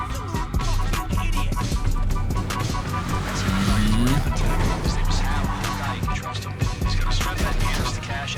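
A stolen car is driven in a video game, its engine droning and shifting with brief tire squeals, heard close and continuous alongside game sounds and a talking voice.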